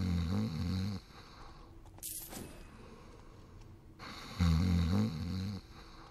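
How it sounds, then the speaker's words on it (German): A guard in the stealth game Thief snores loudly, two heavy rasping breaths a few seconds apart with a quieter snort between them, close and alone in a hushed room. "Sag mal, schnarchst du aber laut, hey."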